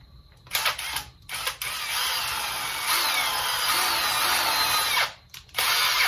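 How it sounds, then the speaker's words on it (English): A power drill whirs in steady bursts, a short start-stop pair, then a long continuous run boring a hole through a bucket, stopping briefly before starting again. "now we're going to drill a hole right exactly where"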